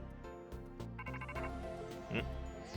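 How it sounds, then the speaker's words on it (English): Phone ringtone ringing in Pokémon Legends Z-A, a steady melodic electronic ring with repeating tonal notes over game music, moderately loud throughout and without talk. "Whose phone was that?"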